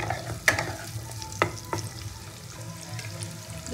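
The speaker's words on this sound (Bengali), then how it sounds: "ক্যাপসিকামটা দিয়ে ভালো করে নাড়াচাড়া করে নিয়ে পেঁয়াজগুলো দিয়ে দেবো।" Capsicum and onions fry in a pan with a low, steady sizzle, while a few sharp scrapes and knocks of a spatula stir them up close.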